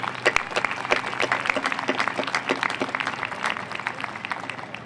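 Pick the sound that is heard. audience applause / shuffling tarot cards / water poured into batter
audience applause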